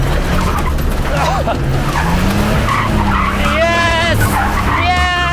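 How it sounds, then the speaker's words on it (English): A 1987 Dodge Ramcharger spins its wheels off-road, tires squealing and skidding over a growling engine. Loud and continuous, with people shouting excitedly over the noise. "a lot of wheel spin."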